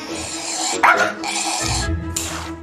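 Several dogs, big and small, bark in short close bursts, with a sharp louder yip near the start and continued barking and low growly noise through the rest.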